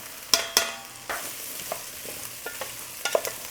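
Butternut squash pieces stirred in a pot with browned aromatics, sizzling softly under repeated sharp scrapes and clacks of a utensil against the pot.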